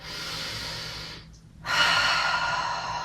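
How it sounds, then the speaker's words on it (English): A deep breath during a foam roller mat Pilates session: a long airy inhale, a brief pause, then a fuller, louder exhale that trails off, close and alone without talk. "Take 1 more nice deep breath."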